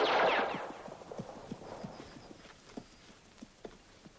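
Horses' hooves clip-clop in a steady, uneven rhythm at moderate distance, quiet and continuous after a brief loud rush of noise at the start.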